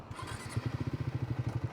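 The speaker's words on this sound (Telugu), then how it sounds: "మీకు బైక్ సౌండ్ వినబడుతుందో" A motorcycle engine runs close by, its rhythmic pulsing putter thumping steadily and evenly throughout with no other sounds over it.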